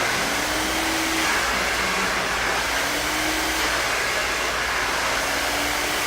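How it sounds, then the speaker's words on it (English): A blow dryer runs steadily at close range, a constant loud whoosh with a faint motor whine, drying hair extensions while styling beachy waves, with no talking. "for you who hold your blow dryer like this"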